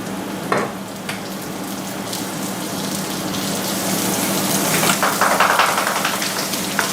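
Butter sizzles in a pan of mushrooms cooked down until their water has evaporated for a creamy green peppercorn sauce, a steady close crackling hiss that swells louder toward the end with soft stirring scrapes.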